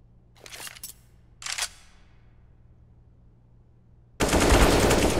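Gunfire in a professional Counter-Strike: Global Offensive match at the ECS Pinnacle Cup: two short, sharp bursts of shots with a ringing decay, then silence, then a loud, sustained barrage of rapid fire.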